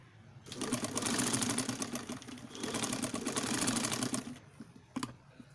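A sewing machine stitches a designer blouse sleeve in two close, steady rattling runs of about two seconds each, with a brief lull between and a soft click at the end.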